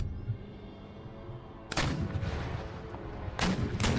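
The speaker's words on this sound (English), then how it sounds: "My entire artillery battery focus on their mortars." A Spanish artillery battery fires in the Empire: Total War game during a battle against enemy mortars: two loud, booming cannon volleys with rumbling tails stand out over a quiet battlefield background.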